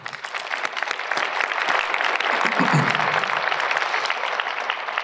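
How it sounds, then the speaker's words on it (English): Audience at an EMS graduation ceremony applauding the graduates' families, sustained dense clapping from a large crowd, steady and loud throughout. "Let's give them a round of applause."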